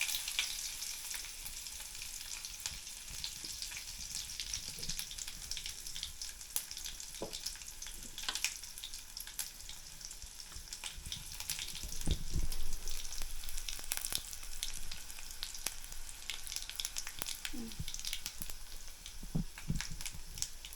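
Curry leaves and garlic sizzling in hot oil in a pan, a continuous close crackling hiss with scattered pops and occasional stirring scrapes.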